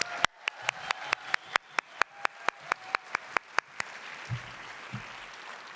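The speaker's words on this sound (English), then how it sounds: "Another round of applause," About fifteen sharp, evenly spaced claps ring out at the Edward W. Said Memorial Lecture hall, fairly faint, then fade into a quiet murmuring room with a couple of soft thumps.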